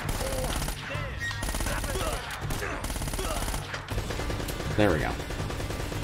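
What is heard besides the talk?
turret gunfire in Uncharted: Drake's Fortune video game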